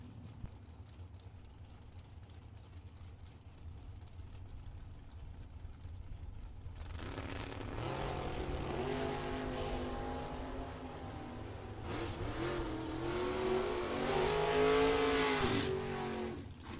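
Drag race cars launch from the line, among them a hard-launching, wheel-standing 1972 Chevrolet Vega, as engines roar up from a low idle into loud, rising revs in two surges, heard from a moderate distance.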